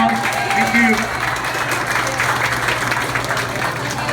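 A crowd claps for a guest at a campaign gathering in Houston, a steady round of applause with a low hum beneath and a few voices mixed in.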